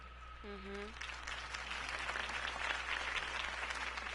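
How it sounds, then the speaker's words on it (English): In the video game Batman: The Telltale Series, a short tonal chime gives way to a crowd clapping, a dense, sustained wash of applause that stays steady to the end. "could have heard that applause"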